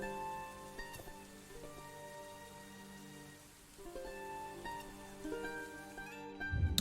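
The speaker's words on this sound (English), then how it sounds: "You can probably hear some rain in the background." Rain from the video game Dwarf Fortress patters steadily in the background, a soft continuous wash layered under tonal game sounds throughout.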